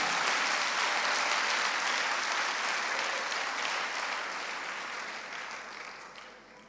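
A church congregation applauds loudly and steadily, dense clapping filling the space before slowly tapering off toward the end.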